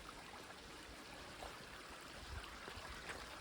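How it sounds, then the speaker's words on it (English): A stream flowing at a river crossing on the Appalachian Trail near Stover Creek Shelter, a steady broad rushing wash of water, faint and continuous with no talking. "it's my first river crossing"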